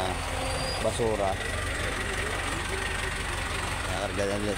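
A garbage truck idles while trash is loaded, its low engine drone running steadily as people talk over it at intervals.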